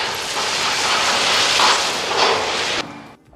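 A truck tipping its load with the power takeoff engaged: a loud, steady broadband rushing and hissing for nearly three seconds, swelling slightly midway, then cutting off abruptly into quiet.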